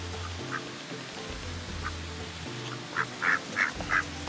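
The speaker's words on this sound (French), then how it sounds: "Alors tu peux regarder les canards, mais ils sont timides." Several ducks quack at a pond in short, bright bursts, scattered at first and then clustering into a louder run of calls near the end, over a steady outdoor background with no talking.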